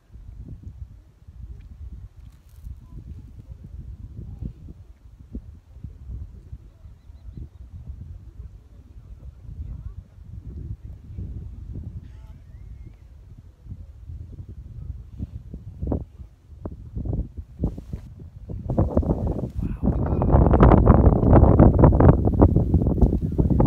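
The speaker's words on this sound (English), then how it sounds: "and it's quite windy." Wind buffets a sandstone cliff ledge in the Blue Mountains, a steady low rumble against the microphone that swells into louder, sustained gusts toward the end.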